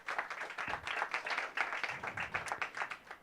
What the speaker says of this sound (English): Round of applause for Society of Professional Journalists